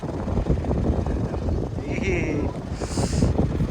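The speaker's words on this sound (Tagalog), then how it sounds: "Lakas ng hangin." Strong wind buffets the microphone in a steady, rumbling roar on a Zambales, Philippines outing, with faint voices underneath.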